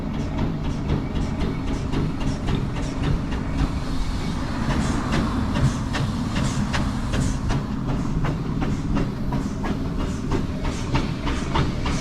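A heavy traction engine rumbles and chugs steadily, loud and close, with a rhythmic clanking beat running throughout.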